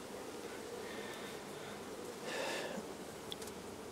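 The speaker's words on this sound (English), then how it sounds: "It would be these bees that we see running about here" Faint, steady buzzing of honeybees around a farm hive hums in the background, swelling briefly as one passes closer.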